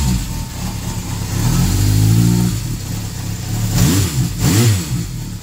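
A 1976 Honda CB750F Super Sport motorcycle engine with freshly synchronized carbs revs from idle in several quick throttle blips, the pitch sweeping up and falling back, loud and close with no talk.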